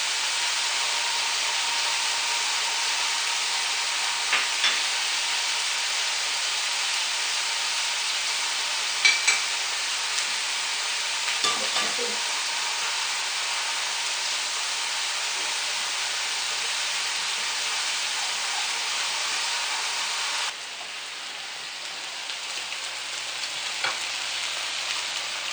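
Sugar melting in hot oil in a pot, heard as a steady, dense frying hiss that holds for most of the time, then drops to a slightly quieter sizzle near the end, with a few faint clinks.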